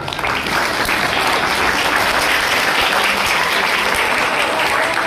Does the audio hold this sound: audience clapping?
yes